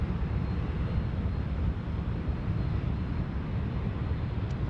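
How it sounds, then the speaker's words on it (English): Qantas Airbus A330 airliner beginning its takeoff roll from the full length of the runway at Sydney Airport, a steady, continuous low engine roar at distance that holds even throughout. "Qantas 330 underway now. From the full length."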